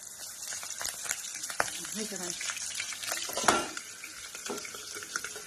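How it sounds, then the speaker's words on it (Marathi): Green chillies frying in hot oil in a home kitchen, giving a steady crackling sizzle with occasional sharper pops and a few light stirring clinks. "आता हे बघा मस्तपैकी मिरच्या मी तळून घेतलेल्या आहेत"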